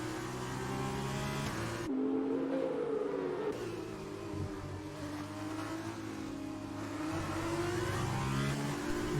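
Formula 2 race cars at the Canadian round roar past in close racing, engines loud and sustained with pitch rising and falling as cars accelerate and jostle for position, a steady wall of engine noise throughout.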